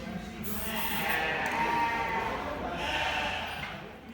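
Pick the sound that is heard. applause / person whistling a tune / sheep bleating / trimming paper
sheep bleating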